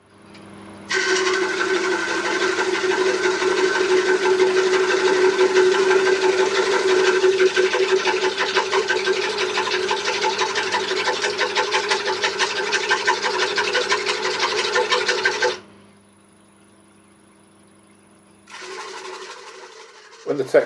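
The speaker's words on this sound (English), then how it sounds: "time to get the Sorby texturing wheel out and produce some pretty patterns on the bottom" A steady, buzzing rasp rises from a spinning cedar piece as a Sorby texturing wheel presses against it for several seconds, then cuts off; a lathe hums underneath.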